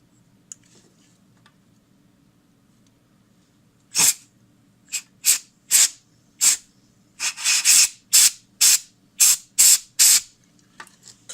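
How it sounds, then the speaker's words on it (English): Compressed air sprayed onto a vintage flashlight part to cool it, heard as a string of sharp hissing bursts, one then several quick blasts in a rapid rhythm, close and loud over a faint low hum. "the compressed air, I sprayed on it, and that cools it down faster"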